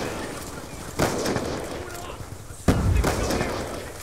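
Gunfire in the multiplayer match of the video game Call of Duty: Black Ops 2, two sharp bursts of shots about two seconds apart over a steady background din of game noise.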